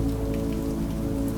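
Steady rain drums on a window, a loud, continuous patter of drops without pause.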